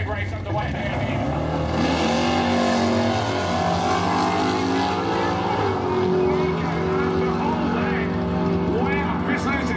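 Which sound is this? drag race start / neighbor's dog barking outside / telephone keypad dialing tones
drag race start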